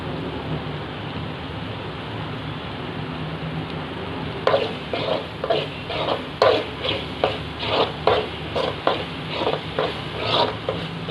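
A pan on a medium flame, frying tamarind-soured fish curry, gives off a low steady sizzle, then a run of rhythmic scraping strokes as the mixture is stirred.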